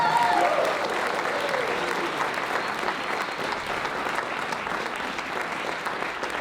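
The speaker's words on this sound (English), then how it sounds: "A round of applause for our candidates." At a federal election debate in Halifax on downtowns and main streets, the crowd gives the candidates a long, steady round of applause. A brief voice is heard at the start.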